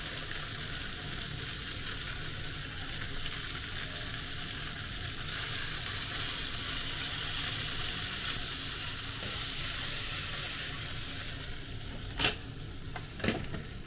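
White onion and carrots stir fry for yakisoba in a hot pan, giving a loud, constant sizzle throughout, with a couple of sharp spatula scrapes near the end and no speech.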